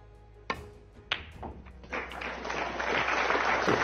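A snooker crowd at the 2024 World Grand Prix, at a Ding Junhui versus Zhang Anda match, breaks into applause after a few sharp knocks and thuds, and the clapping swells and stays loud to the end.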